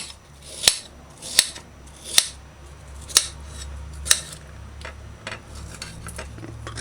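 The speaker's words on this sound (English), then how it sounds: "I'm just gonna dice these in little small cubes." Sharp knife chops on a cutting board while dicing okra stew ingredients into small cubes, five crisp distinct cuts followed by softer, quicker taps.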